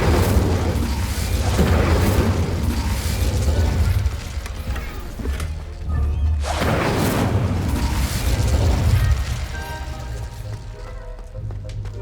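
Incendio fire spell bursts in the Hogwarts Legacy video game, with loud whooshing, booming blasts recurring several times over a rumbling low backdrop, and a voice speaking in between.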